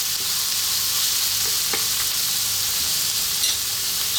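Chopped onion and garlic frying over high heat in a hot pan for egg fried rice, a steady close broadband sizzle with a few faint clicks from the pan, no voices.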